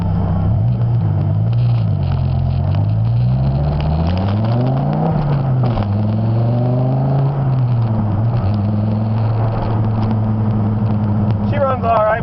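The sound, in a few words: 2000 Dodge Viper engine running on a test drive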